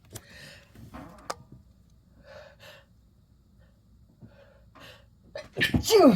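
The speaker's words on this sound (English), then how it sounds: "Holy sneeze." A sudden loud sneeze bursts out near the end, preceded by quiet breathy sounds and a few soft clicks in a calm room.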